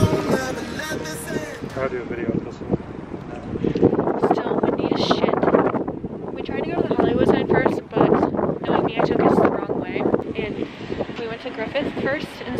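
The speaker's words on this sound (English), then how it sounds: "Still windy as shit" Strong gusting wind buffets the microphone outdoors during an LA outing, a broad continuous rumble and rush that swells louder from about four seconds on, with faint voices mixed underneath.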